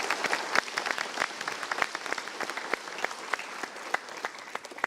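Audience applause fills a talk-show studio, a steady mass of claps with sharp individual hands popping out, moderately loud and continuous for about five seconds.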